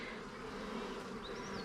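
Honeybees buzzing around an opened hive during an inspection, a dense, continuous drone from many insects, close and steady with no speech.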